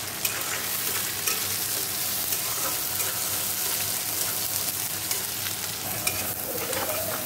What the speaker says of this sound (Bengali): এবার পেঁয়াজ দিয়ে দেবো, তারপর আদা দেবো।